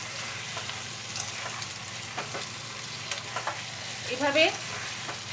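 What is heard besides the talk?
stirring yogurt into mutton in a pan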